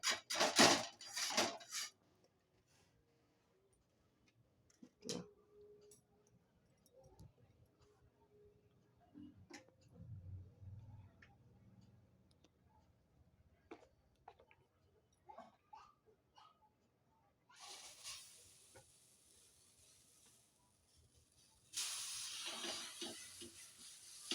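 Karam dosa batter hissing on a hot pan in a home kitchen, with soft sizzling, a few clinks of utensils and scraping, quiet overall and sharper steam-like hiss near the end.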